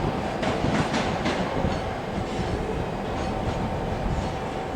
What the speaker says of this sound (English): 334-013 and 334-019 with the 1312 Scotrail service to Helensburgh.